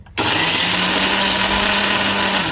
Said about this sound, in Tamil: இந்த மாதிரி நைஸாக அரைச்சிக்கோங்க